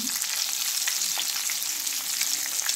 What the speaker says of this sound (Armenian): Ահա, սիրելիներ, ինչպես տեսնում եք, արդեն տապակում ենք